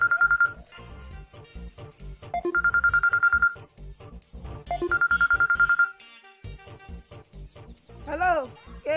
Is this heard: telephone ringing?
yes